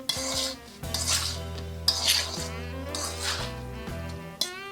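Avocado tuna salad is mixed in a bowl with utensils, producing repeated clinks, scrapes and wet squelches in bursts over soft background music.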